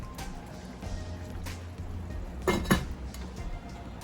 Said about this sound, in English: So I'm gonna add about a half a cup of oil to this pot. Stir it around and let it simmer.